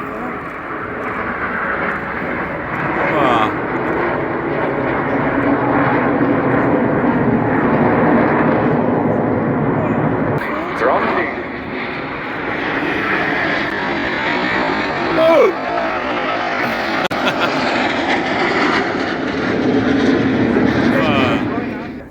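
Jet aircraft flying a formation display at the Royal International Air Tattoo air show, a loud, sustained broadband roar that swells and eases over about twenty seconds as the planes pass overhead.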